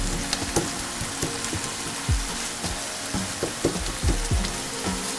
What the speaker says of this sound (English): is to add your onions. Get all of them in there. Turning the pan up a little higher.